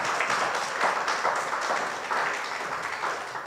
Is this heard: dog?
no